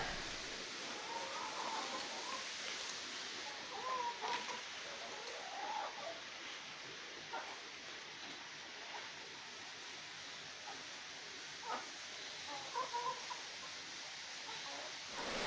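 Chickens cluck in short scattered bursts in a backyard, partly buried under a steady broadband wash like running stream water, with no clear talk.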